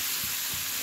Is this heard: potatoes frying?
yes